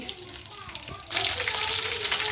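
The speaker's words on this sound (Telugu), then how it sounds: "నూనె కాగిన తర్వాత మనము జీలకర్ర ఆవాలు వేసుకుందామండి." Cumin and mustard seeds drop into hot oil, and a bright crackling sizzle jumps up suddenly and holds steady. A voice speaks quietly just before.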